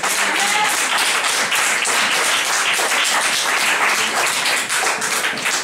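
A worship congregation applauds in praise continuously, dense steady clapping filling the space at full volume with no pauses.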